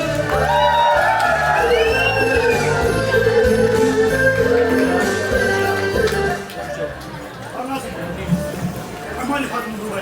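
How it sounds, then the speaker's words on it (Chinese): Wedding guests shout and whoop in a burst of crowd cheering over music, loud and close at first, then easing off partway through. "朋友们，这么有爱的时刻，怎么能缺少我们的掌声和欢呼声呢？"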